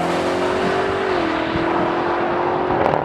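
A 4.4-liter twin-turbo V8 engine in a 2021 BMW M8 Competition Gran Coupe idles and revs with a deep, steady drone, loud and close, rising slightly near the end.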